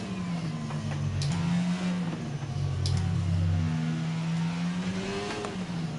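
A race car in a racing video game on a French circuit, its engine droning loudly down the main straight with steady revs and brief shifts, alone without talk.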